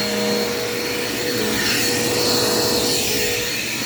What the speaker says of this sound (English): this vacuum really does clean pretty well too